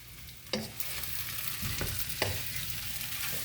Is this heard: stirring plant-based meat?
yes